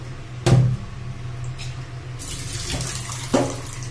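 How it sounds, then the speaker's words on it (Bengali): Something is rinsed under a running kitchen tap while noodles boil nearby, a steady close water stream with a few louder splashes and knocks against the sink; no one speaks. "ততক্ষণ আমি এটা ধুয়ে নিই"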